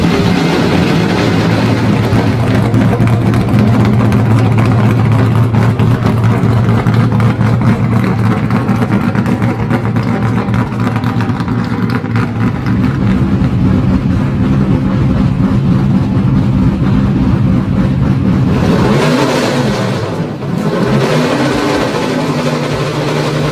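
The 7-litre V8 of a Plymouth Superbird, rated at 425 horsepower, rumbles loud and steady through dual exhausts, with a brief shift in revs near the end. No voices are heard.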